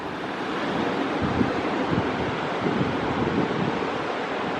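Ocean surf and wind on the beach at Whalebone, just south of Nags Head, North Carolina, a dense, continuous roar of breaking waves with wind buffeting the microphone, loud and close.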